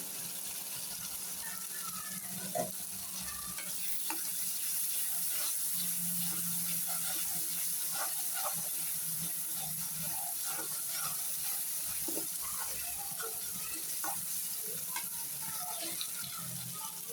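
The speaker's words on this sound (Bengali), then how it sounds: "মশলা কষাতে আদা দিতে ভুলে গিয়েছিলাম যে আদা রসুন বাটা দিয়ে দিলাম" Masala with ginger-garlic paste fries in a pan for a spicy shing and pangas fish bhuna, giving a steady close hiss of sizzling with scattered small pops and scraping, alone without talk.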